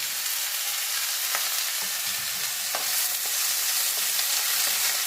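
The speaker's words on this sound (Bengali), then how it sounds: "পেঁয়াজটা আর রসুনটা একটু ভাজা ভাজা হবে" Onion and garlic frying in a pan while a pumpkin-flower dish is cooked, giving a steady, dense sizzle throughout with a few sharp crackles and light stirring scrapes, close and continuous with no voices.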